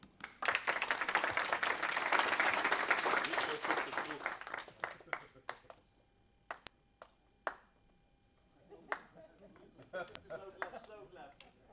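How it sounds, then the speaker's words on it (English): Applause from a conference audience at a hacker event, a dense burst of clapping for about four seconds that thins into a few scattered, isolated claps, with light talk in the room. "Slow clap."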